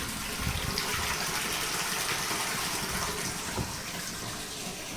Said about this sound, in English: So the water goes right into a tank.